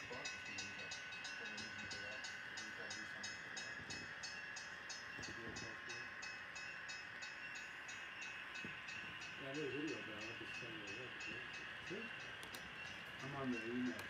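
An HO scale Milwaukee Road SD9 model locomotive hums steadily along the layout with a constant whine and faint rail clicks, quiet and continuous, while someone talks over it.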